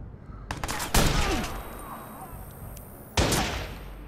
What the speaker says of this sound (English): He's shooting me too.